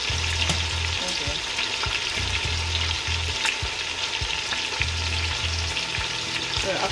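Oxtail and vegetables frying in a pot, a steady loud sizzle throughout with occasional clinks and stirring scrapes, close by and without speech.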